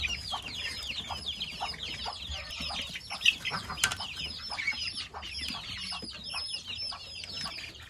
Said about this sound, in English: So here are all my chicks and then the ducks right here.